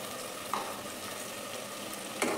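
Chicken biryani masala fries in a pan after coriander-mint paste and tomato go in, a steady soft sizzle with two brief stirring scrapes.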